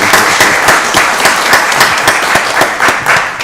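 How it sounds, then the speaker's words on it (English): Close, loud audience applause at a county board of commissioners meeting, dense clapping that keeps a steady rhythm from start to finish with no voices over it. "Give her a round of applause."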